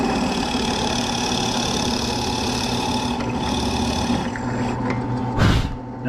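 A drill press with a 20 millimeter bit bores mortise holes, giving a steady, loud motor drone that swells into a short, louder burst near the end.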